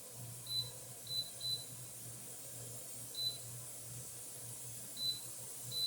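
Short electronic beeps from an air fryer oven's control panel as it is switched on, a handful of brief, faint high tones spaced irregularly over a low steady hum in a kitchen.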